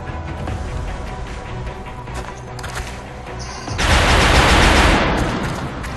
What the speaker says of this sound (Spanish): Y yo voy a disparar